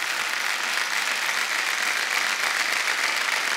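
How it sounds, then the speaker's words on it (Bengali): An audience at SJPA 2015 gives a loud, sustained round of applause, dense and steady from start to finish with no voices over it. "তার জন্য একবার জোরে হাততালি চাই"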